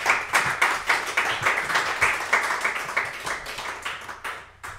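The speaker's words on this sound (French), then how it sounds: "on peut l'applaudir." A room audience at a talk gives steady applause, many hands clapping in a brisk, fairly close patter that stays even and then thins out toward the end.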